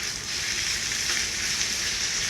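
Beef sautéing with onion and garlic for Filipino kaldereta, a loud, dense, continuous frying hiss that stays even throughout with no voices.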